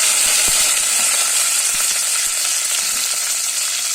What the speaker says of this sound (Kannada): ಕಟ್ ಮಾಡಿರುವಂಥ ಉಳ್ಳಾಗಡ್ಡಿ ಮತ್ತು ಮೆಣಸಿನ್ಕಾಯಿ ಎಣ್ಣೆ ಒಳಗೆ ಬೇಯಬೇಕು